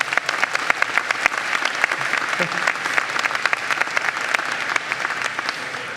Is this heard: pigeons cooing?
no